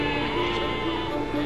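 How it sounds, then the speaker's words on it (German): Sheep bleating in the Scottish Highlands, a steady, near, sustained bleat holding over a constant outdoor background. "Auf Schafe trifft man in den Highlands immer wieder."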